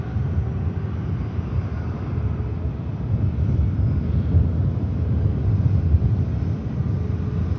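An Air France airliner touching down at Manchester Airport, a steady broad roar and rumble of the aircraft with gusting wind buffeting the microphone, swelling slightly toward the end, no talk.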